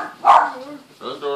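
A house dog gives a single sharp bark up close, followed by a softer whimpering yelp, with people talking nearby.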